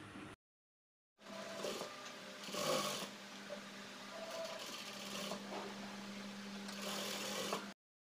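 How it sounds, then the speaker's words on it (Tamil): Sewing machine stitching cloth for a nighty runs in a steady, continuous whir with a brief pause at the start, close and moderately loud, with no talk. "மேல் பக்கமாக பதிச்சு ஒரு தையல் கொடுக்குதேன்"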